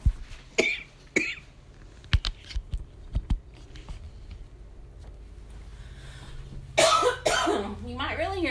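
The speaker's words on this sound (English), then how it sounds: "you are gonna hear me cough" Someone in a home kitchen coughs several times close by, short sharp bursts spread across the moment with quiet gaps and light clatter between, ending in a louder cough and throat clearing.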